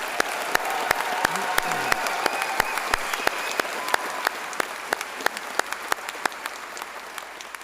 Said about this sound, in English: So how about we give the volunteers a round of applause too?